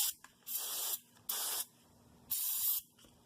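Three bursts of aerosol brake cleaner hiss loudly onto a 2013 Ford Explorer's rear brake bracket, each lasting about half a second to a second, separated by brief quiet pauses.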